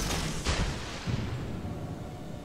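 Warship cannons firing in World of Warships, a deep booming blast followed by a second heavier thud and a rumbling tail, fairly loud and alone.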